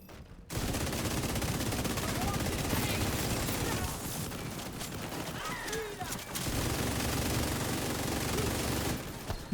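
Video game gunfire, with sustained rapid machine-gun bursts and dense overlapping shots that run loud and continuous with a brief lull midway, while voices talk underneath.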